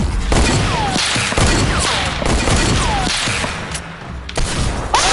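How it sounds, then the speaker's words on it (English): Desert Eagle pistol fire in a shooter video game, loud sharp repeated shots at a fairly steady pace with booming tails, alone, with no talk over it. "You killed me with a pistol! No, that was a deagle."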